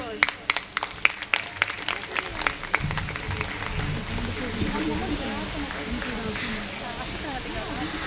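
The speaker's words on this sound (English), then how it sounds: "Requesting the audience to cheer our young little achievers." Audience applause at a school annual day prize-giving, starting with distinct individual claps that quickly thicken into steady, fairly distant clapping, with crowd murmur and talk underneath.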